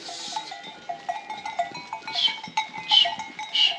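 Goats bleat repeatedly in a pen at night during kidding season, several overlapping calls near and far, with a faint bell clanking between them.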